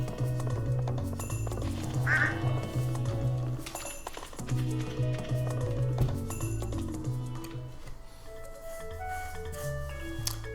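Duck quacks in the Stardew Valley farming game, a run of repeated nasal calls at a moderate volume over soft game music and other background effects.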